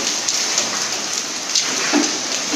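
Heavy rain pours down steadily in a dense, continuous hiss during a storm, with individual drops pattering nearby.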